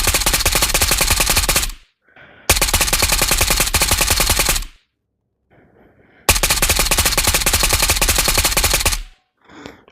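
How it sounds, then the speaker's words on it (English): An AK Alpha rifle in the Ghost of Tabor VR game fires long fully automatic bursts, three loud rapid strings of shots separated by brief pauses with reload clicks in between. "And then AK Alpha, one of the most famous guns. Let's check out the recoil."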